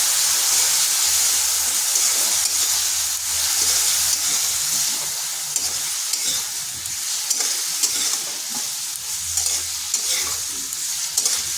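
Ground cumin, coriander and chilli powder hiss and sizzle steadily in a hot pan after a splash of water goes in. The loud frying carries throughout with faint stirring scrapes and no talk.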